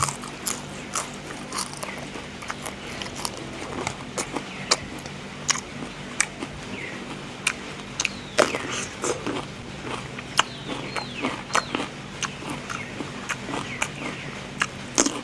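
Crunchy vegetables bitten and chewed alongside rice and fermented fish chili paste, giving a run of sharp, close crunches at an uneven rhythm through the whole stretch with no talk.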